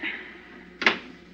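A single short thump of a car door shutting, a radio drama sound effect, heard once against a low hum inside a vehicle.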